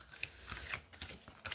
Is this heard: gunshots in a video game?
no